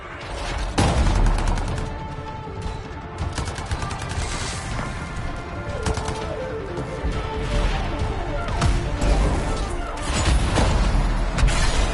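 Gunfire from Anthem, dense and continuous throughout, with rapid shots and sharp bursts layered over a busy mix of crashes and mechanical noise.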